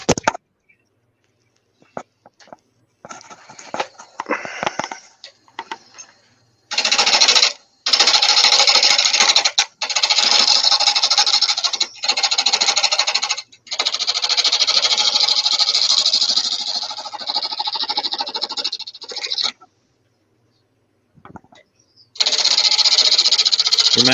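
A carbide tool cuts tiger oak on a wood lathe for a lidded pot, making bright, scraping, chattering bursts of varying length separated by silent gaps, close and fairly loud.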